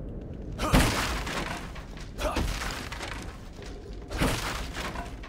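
Wooden boxes smashed apart in The Evil Within 2, three loud splintering crashes spaced a couple of seconds apart over a steady rumbling game background.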